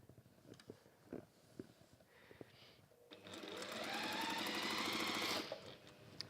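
A sewing machine stitches scrappy log cabin quilt pieces in one steady, fairly loud run of about two seconds, preceded by quieter handling clicks and taps.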